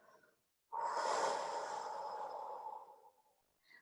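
A single long, soft exhalation as a quiet vocal yoga warm-up with little voice, a breathy hiss steady for about two seconds before fading, close and alone.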